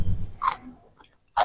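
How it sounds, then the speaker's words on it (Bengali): Close crunchy bites and chewing of fresh cucumber, a couple of sharp crisp crunches separated by softer mouth sounds, near and fairly loud. "শসা খাই আমি"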